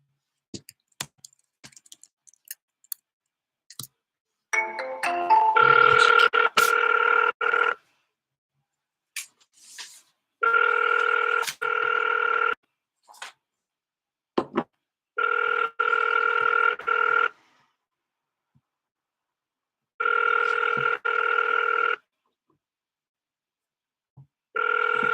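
Outgoing phone call ringback tone, a steady electronic two-tone ring repeating in about four evenly spaced bursts with silent gaps between, preceded by faint button clicks and a brief dialing sound.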